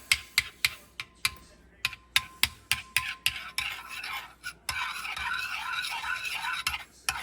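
Chicken wings mixed with buttermilk and black pepper in a bowl, a rapid run of close, sharp clacking strokes that gives way to a wetter, continuous sloshing stir, with no talk.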